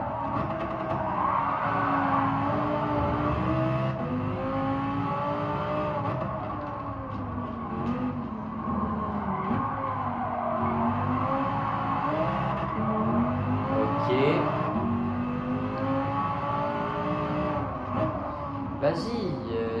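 Race cars in a racing video game rev steadily on a circuit with continuous engine drone and occasional tire skids, under near-constant speech throughout.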